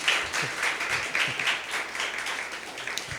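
Audience applause at a music lecture-demonstration during an annual cultural festival, a steady patter of many hands from a modest crowd, continuous and fairly close for a few seconds.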